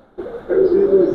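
A pigeon coos softly inside a high-flying pigeon loft. One short, throaty, rolling coo starts abruptly and carries on close to the mic.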